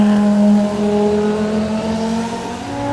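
Audi 90 IMSA GTO race car with a five-cylinder engine over 1,000 horsepower holds a loud, close, sustained note that eases slightly over a few seconds, alone with no talking.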